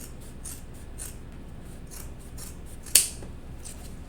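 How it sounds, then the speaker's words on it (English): Scissors cutting fabric strips for cloth face mask ties, a single sharp snip standing out clearly against a quiet room with faint rustling around it. "So let me finish cutting my strips."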